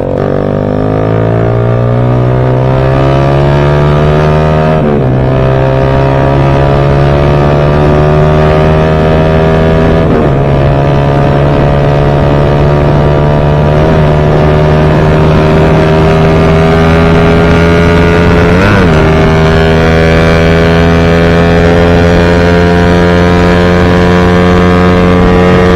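A Suzuki Raider 150 motorcycle engine fitted with a 32mm carburetor revs loud and close, its pitch climbing in repeated sweeps with short drops between gear changes, running continuously with wind noise and no talk.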